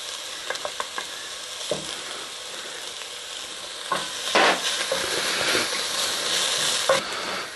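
Garlic dropped into a pan of softened onions, a close, steady sizzle punctuated by spoon taps, swelling into a louder, bubbling fry midway and holding through to the end.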